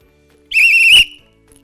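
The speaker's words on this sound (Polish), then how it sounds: "Pora na gwizdek." A single sharp, high whistle blast lasting about half a second, loud and close, then silence.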